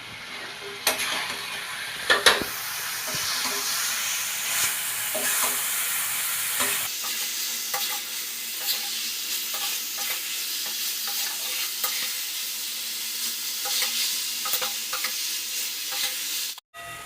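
Masala chicken curry with chopped onion and coriander leaves sautés in a pan, giving a continuous loud frying sizzle with scraping stirs and a few sharp utensil knocks.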